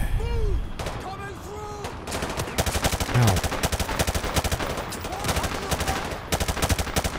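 Rapid gunfire in Call of Duty Modern Warfare 2, with bursts and single shots cracking repeatedly over several seconds amid the din of combat, loud and close.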